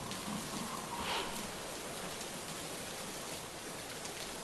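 Steady broadband rain pours down over Pimpri Chinchwad during a flood, a dense, even hiss with no breaks and no voices.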